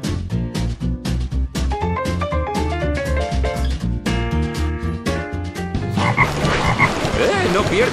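Toad croaking in the Tiana y el Sapo video game, loud rhythmic repeated croaks over game music, with the texture growing busier toward the end.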